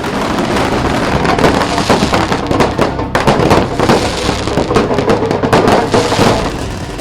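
Dense, continuous crackling and popping of fireworks with sharp bursts throughout, loud and close, no voices.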